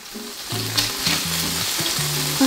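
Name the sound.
frying in a pan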